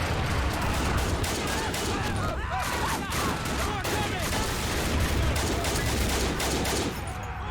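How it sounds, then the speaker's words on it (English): Continuous battlefield gunfire and artillery from the Army Men: Desert Rats video game in a trench-defence battle for a hill, a dense unbroken barrage of overlapping shots and blasts, with a voice talking faintly underneath. "Tan artillery for supporting the Tans"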